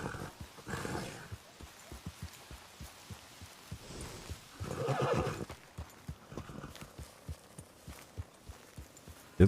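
A donkey in Red Dead Redemption 2 roleplay on WildRP brays and whinnies while hooves clip-clop in an irregular rhythm, hoofbeats close and steady, the calls rising in a louder burst midway.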